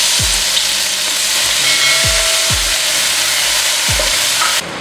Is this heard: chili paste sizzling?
yes